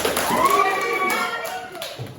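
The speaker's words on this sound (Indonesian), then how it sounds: "kasih tepuk tangan dulu dong" A classroom of students clapping hands together in a short burst, fairly close, with voices and tonal chatter mixed in over the clapping.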